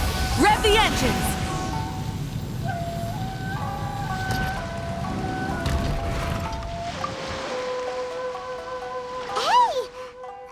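Ship engines and splashing water aboard a fleet vessel in the video game Genshin Impact, a steady low rumble running throughout beneath talking voices and tonal game sounds.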